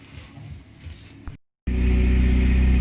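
A Vauxhall Astra VXR, prepped for an Oulton Park track day, pulls away: a low, uneven engine rumble breaks off briefly, then returns as a loud, close, steady engine drone with no talking.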